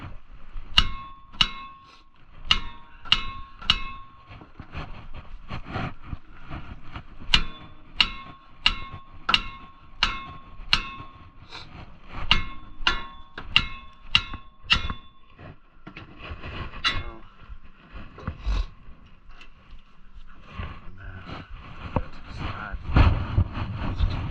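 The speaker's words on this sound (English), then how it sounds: "just going to whack the side of it right here" A hammer whacks the side of the front strut on a 2007 Ford F-150 V8, producing rapid runs of sharp, ringing metallic clangs close by, grouped in rhythmic bursts with brief pauses and rougher knocks toward the end.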